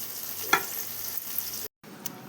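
Potato pieces fry on high flame for a green chilli potato fry, a soft steady sizzle with a brief stir or scrape near the start, quiet and without talk.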